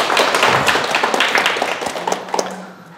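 Applause from an audience at a Sunday lecture hall, a burst of clapping that starts full and gradually thins and fades out.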